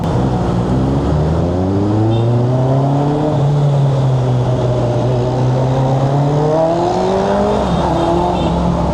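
A Honda CB1000 Hornet 1000cc motorcycle, fitted with a silencer, pulls hard through the gears in rush-hour traffic, its engine note climbing loud and close in repeated sweeping rises under heavy wind noise.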